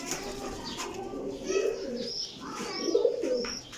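Pigeons kept in a loft coo in low, throaty rolling phrases, two distinct bouts swelling up close, with faint chirps and rustling around them.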